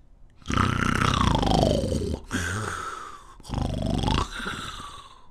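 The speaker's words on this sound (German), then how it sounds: "ein lautes Schnarchen" Loud, drawn-out snoring, three long rasping breaths with brief pauses between, close and unaccompanied by talk.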